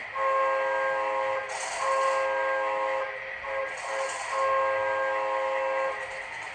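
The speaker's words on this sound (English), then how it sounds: "And of course, Hancock air whistle" An HO scale model train's Hancock air whistle sounds in two long, steady blasts, each with a brief gap, loud and close over a continuous mechanical hum.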